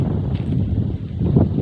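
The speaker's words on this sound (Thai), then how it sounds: "ลมหนาวกำลังมา ลม" Cold wind gusts across a reservoir in a rural hillside setting, a close, steady rushing blow buffeting the microphone for a couple of seconds with no talk.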